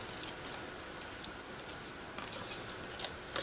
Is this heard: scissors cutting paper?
yes